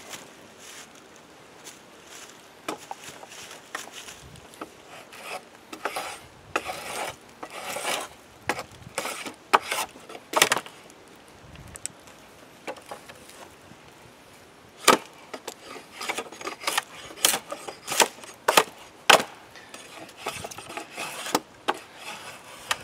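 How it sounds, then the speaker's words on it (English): A knife carves notches into wood for a simple shaving ladder outdoors in the woods, giving irregular scraping and rasping strokes with sharp bursts, close and fairly quiet, with no talk. "see how just one notch works"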